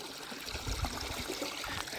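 Water trickles and gurgles softly as a buffalo drinks, a faint lapping and splashing against a quiet outdoor background.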